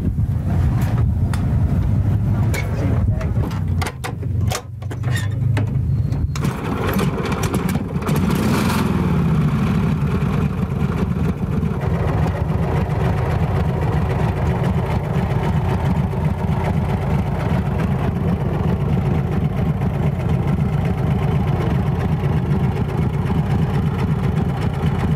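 An antique motorcycle with a sidecar is started and keeps running at an outdoor motorcycle club show. A few sharp knocks and clatter come first, then a loud, steady engine rumble with wind buffeting the microphone.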